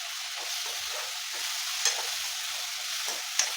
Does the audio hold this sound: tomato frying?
yes